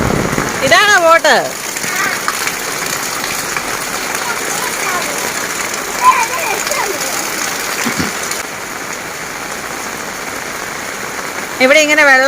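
Steady rain pours onto a yard where water collects in puddles, a dense, even hiss close by, with people talking briefly at the start and end.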